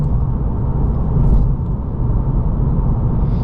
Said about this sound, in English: The engine sounds like trash with the CVT, not gonna lie.